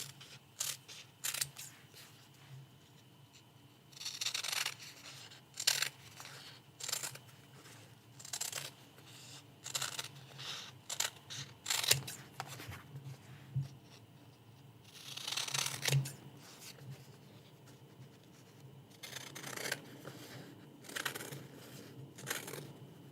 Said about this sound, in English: All right, let's get this piece trimmed.